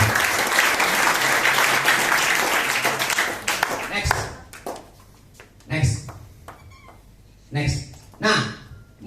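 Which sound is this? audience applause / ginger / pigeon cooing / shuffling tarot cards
audience applause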